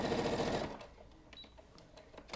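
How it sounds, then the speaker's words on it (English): Brother ST150HDH heavy-duty home sewing machine stitching through a single layer of 4-ounce leather with regular all-purpose thread, a dense rapid mechanical whir that runs loud for the first half second, then stops, leaving faint clicks and handling noise. "never had a home recreational machine that could sew through even 1 layer of leather"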